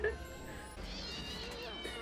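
A cat meows in a scene from the 2000 film How The Grinch Stole Christmas, a short mewing cry over a steady movie soundtrack of music and background noise.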